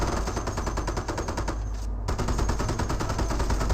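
A .50 cal machine gun firing in Company of Heroes, a continuous rapid stream of evenly spaced rounds at a steady clip, moderately loud, with a short dip in the middle.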